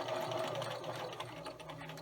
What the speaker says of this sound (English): And again, sew all the way around.